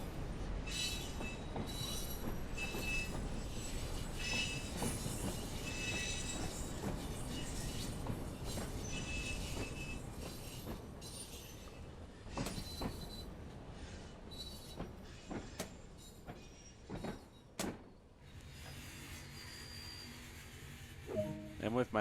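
Short train in Train Sim World on the Isle of Wight slows into a long platform at about 15 mph, with a steady rumble of wheels and squealing, then quieter clicks and thumps as it stops.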